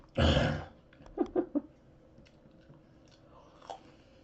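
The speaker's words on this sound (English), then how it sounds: "There's snap peas here, and I just need to be eating them." Crisp bites and crunching on fresh snap peas, one loud bite followed by a few quick chewing crunches close to the mic, then quieter soft chewing.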